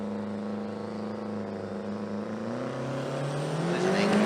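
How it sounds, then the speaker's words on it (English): Two sport compact drag racing cars idle and rise in pitch as revs and boost build steadily, a low droning roar growing louder toward the end with no talking. "You'll hear these two drags as they will build the revs, try and build the boost."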